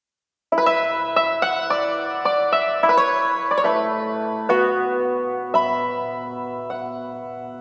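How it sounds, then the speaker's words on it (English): A yangqin, a hammered string instrument, plays a melody of struck notes that ring on with a dark, shimmering sustain, each hammer strike clearly separated, close and alone. "the yangqin is this really beautiful string instrument that is played with hammers"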